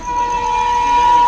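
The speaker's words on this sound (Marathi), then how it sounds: "इंडियन रेल्वे लोकल आलेली आहे आता" Indian Railways train at a station platform, a steady, loud tonal horn-like blare held over a broad rumbling wash for the whole short moment, with no talk.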